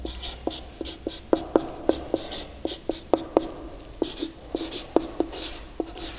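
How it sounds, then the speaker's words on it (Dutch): Pen writing on a small slip of paper, close and fairly loud, with a steady run of short scratching strokes and taps for about six seconds and no talking. "Dus je gaat wat op een briefje schrijven."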